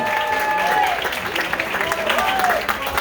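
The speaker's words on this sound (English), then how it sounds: "Keep that applause going, ladies and gentlemen" Comedy club audience applauding at a stand-up contest, a steady crowd clapping under cheers and a voice speaking over it.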